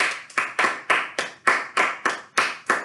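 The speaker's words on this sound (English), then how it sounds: "Give them a round of applause, please, Amran." Steady, rhythmic clapping, with about a dozen evenly spaced sharp claps close by and no voices.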